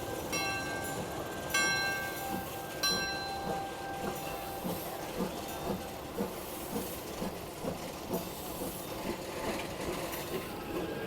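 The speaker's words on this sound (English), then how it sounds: "I'm gonna have to wait for a train." A train rolls past at the Cedar Point amusement park with a rhythmic clickety-clack of wheels and a steady hiss, opening with a few high metallic squeals.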